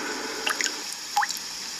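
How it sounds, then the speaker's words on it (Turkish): Water dripping onto a carpet, a few clear, close plinks and drops scattered over a quiet background hiss. "Damlaya damlaya su birikiyor."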